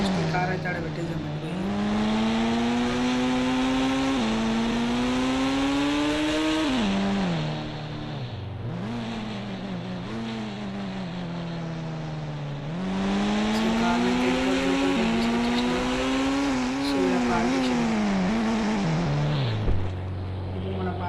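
An old Bugatti car engine revs up and down in two long sweeping cycles, a loud, continuous, droning tonal whine that rises and falls in pitch.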